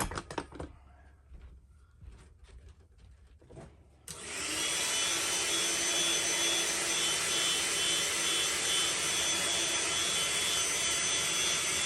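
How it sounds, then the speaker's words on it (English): Heat gun heat-setting fresh paint on a swimbait: after a few seconds of quiet handling noises, a loud, steady blowing roar switches on and runs continuously to the end, close up, without talk. "I'm gonna go ahead and heat set this really fast."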